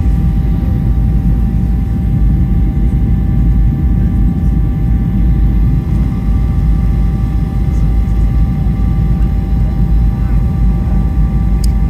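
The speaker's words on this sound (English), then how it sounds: "landing in Boston" An Alaska Airlines airliner coming in to land at Boston Logan, heard from inside the cabin: a loud, steady, low engine roar and rushing drone that holds constant throughout with a faint whine on top.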